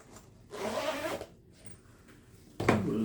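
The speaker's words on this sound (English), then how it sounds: "We'll zip it back up" Zipper on a Highland Tactical Precision 37-inch double rifle case pistol bag being zipped closed in two quick close pulls, separated by a short pause.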